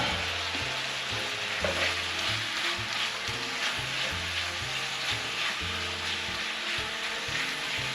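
Shrimp, lobster and vegetables fry in a crowded pan, giving a steady, close sizzle with a constant crackle throughout, lightly stirred, with no talking over it.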